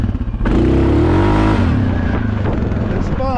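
Suzuki KingQuad 750 ATV engine, in high range with clutch modifications, punched to about 60% throttle on dirt: a loud, close rising rev that holds a strong droning roar for several seconds.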